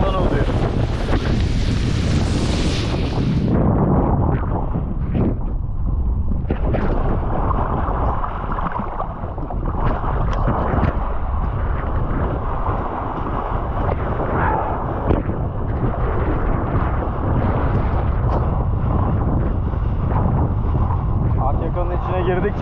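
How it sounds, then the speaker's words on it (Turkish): Strong wind on a boat off Akyaka, Turkey, continuous heavy buffeting roar with water and waves beneath, loud and close throughout, with a person speaking over it. "Biraz daha rüzgar düşmeye başlıyor."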